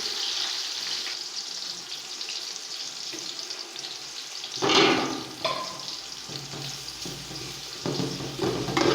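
Onions with ginger garlic paste fry for chicken pulao, giving a steady close sizzle with a louder burst of spattering and stirring partway through.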